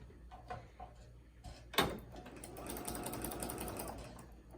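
A sewing machine quilting a quilt top starts up after a couple of faint handling knocks, then settles into a fast, steady, close-up whirring stitch that continues to the end.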